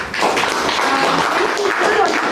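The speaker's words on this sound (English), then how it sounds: "let's give him a round of applause" Audience applause at a Rotary Club event, a dense, loud wash of many hands clapping together that holds steady for a couple of seconds. Voices sound faintly underneath.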